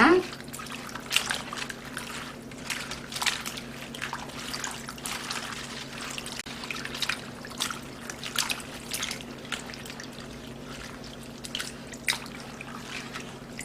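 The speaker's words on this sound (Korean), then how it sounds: "흐르는 물에 이렇게 해서 이런 식으로 씻어주면 됩니다." Napa cabbage, a small loose head of about 450 g, is rinsed under a running tap, with a steady trickle and splashing water throughout plus light squishy handling of the leaves. Background hum is faint and no one talks.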